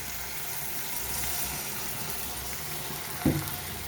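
Steady hiss of onions frying in a pan, with a brief louder splash or clatter near the end as ginger, green chilli and tomato paste goes in.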